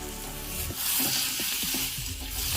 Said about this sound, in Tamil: தக்காளியை சேர்த்துட்டு நல்லா வதக்கி விடணும்.